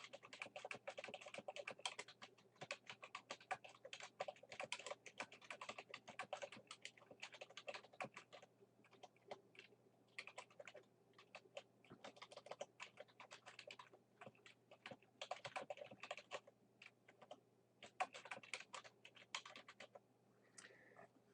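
Steady typing on a computer keyboard, with fast, continuous key clicks at a faint, close level and a low hum running underneath.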